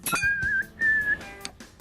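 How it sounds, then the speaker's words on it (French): A rapid series of electronic whistles rendered from converted data, with sustained pitched tones and short chirps in quick succession, loud and close, with no voices. "Les données sont converties en une série de sifflements."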